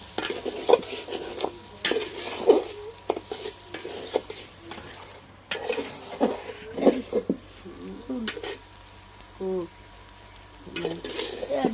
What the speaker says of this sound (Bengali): চাল ভালোভাবে ভাজা নিলাম